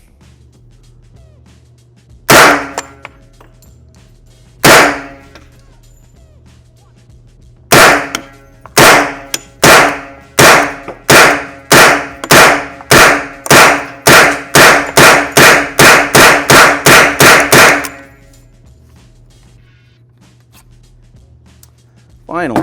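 A 3D-printed Mac 10 replica firing through a full magazine: two spaced shots, then a run of sharp cracks speeding into a rapid burst before stopping, loud and close, with a brief spoken word.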